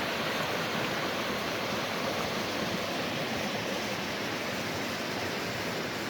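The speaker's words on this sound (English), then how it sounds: "I'm just going to show you guys the creek quick." A creek in gold-prospecting country rushes past in a constant, close, full wash of flowing water, with no voices or other sounds.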